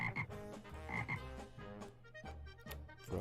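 A toy frog gives a run of loud, close croaks in a steady rhythm, the throaty bursts repeating back to back with no talking.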